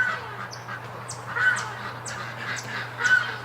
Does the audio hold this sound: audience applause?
no